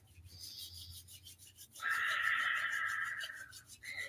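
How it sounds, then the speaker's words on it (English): Palms rubbed briskly together during a Kundalini yoga practice, a steady close-up rasping friction that swells suddenly and holds for about two seconds, after quieter soft brushing. "So rubbing the palms."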